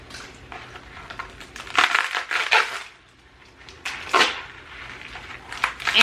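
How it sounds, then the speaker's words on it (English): The dry, papery outer skin of a loofah gourd is peeled back by hand, giving bursts of crisp crackling and crunching that come and go in irregular clusters with quieter pauses between them. "You just peel back the outer peeling like this."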